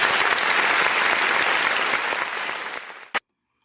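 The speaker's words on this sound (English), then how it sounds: "Let me drop that applause." A canned applause sound effect plays as a loud, dense burst of crowd clapping that slowly tapers, ends with one sharp final hit, then drops into silence.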